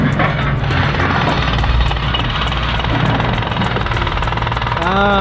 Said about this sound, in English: We're gonna wake up to jackhammering in the morning.